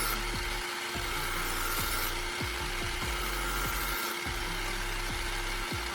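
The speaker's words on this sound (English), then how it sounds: "I glide the knife along the polishing disc" A knife blade is drawn across a CD disc mounted on a spinning angle grinder, a steady high grinding whine with repeated scraping pulses from light, controlled strokes, close and continuous with no voices.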